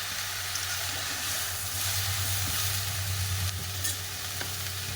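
Greens cooking with potato, eggplant and bori being stirred in a pan, a steady hissing sizzle with soft scraping and a low hum running underneath throughout.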